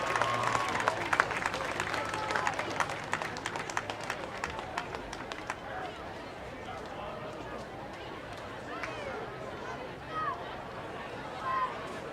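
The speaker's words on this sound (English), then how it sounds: "Round of applause for number 65" Spectators at a high school football game between PHN and Grosse Pointe South clap for an injured player, number 65; scattered applause fades after a few seconds into distant crowd murmur on the field.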